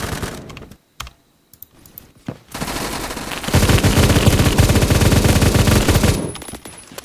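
Rapid automatic gunfire from a gun in the video game Phantom Forces, a few short bursts giving way to a long, loud sustained burst with dense rattling shots, close and without talk.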